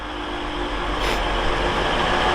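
A Class 185 train on the Cleethorpes to Manchester Piccadilly service creeps into Doncaster station on the East Coast Main Line, giving a steady, loud, close rumble that holds without a break and carries no speech.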